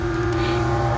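A car engine in a Gangstar Mirage race hums loud and steady at a constant pitch for a moment, with no voices.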